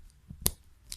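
Safety crafting scissors snip open a plastic slime packet with one sharp close cut, with faint rustling of the packet before and after.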